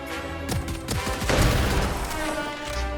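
Gunfire in a video game, a rapid fusillade of sharp close shots with booming low impacts, several bursts crowding together and dense in the middle, then a lingering rumble.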